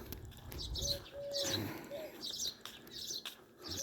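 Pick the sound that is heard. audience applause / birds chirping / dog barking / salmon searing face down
birds chirping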